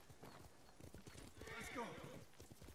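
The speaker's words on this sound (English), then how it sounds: "Come here, horsey." Horse hooves clip-clop in Ghost of Tsushima while a horse neighs loudly partway through, with someone talking over the game sounds.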